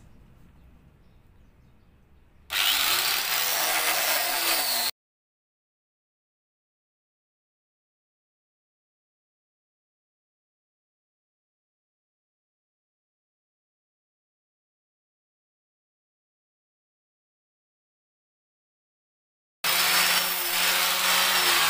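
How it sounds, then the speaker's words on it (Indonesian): A harsh, loud grinder fitted with sandpaper sanding the surface of a folding kitchen table in a short burst, then a long silence before a second burst of grinding begins. "saya akan gosok dulu pakai amplas kerinda."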